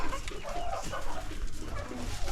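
Chickens milling about on sawdust litter inside a poultry house, with soft clucks and bird calls close by over a steady, busy barn hum throughout.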